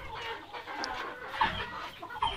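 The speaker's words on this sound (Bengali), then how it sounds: "এই লাল যে মোরগটা দেখতে পাচ্ছেন এটা ব্রাহ্মার মোরগ, এবং সাইডে যে বড় মোরগটা দেখতে পাচ্ছেন এটা টাইগার।" Brahma and Tiger breed roosters among desi chickens in a small backyard pen, giving soft scattered clucks and a few brief calls at low level.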